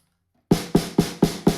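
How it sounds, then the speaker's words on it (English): Five sharp snare drum hits in an even rhythm, each with a crisp, rattling crack from the snares against the bottom head and a short decay, close and loud. "So as I strike the drum, these snares basically crack against the bottom head."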